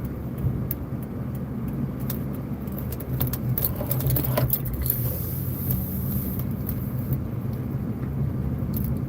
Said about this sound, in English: We gonna hit up the car wash right quick.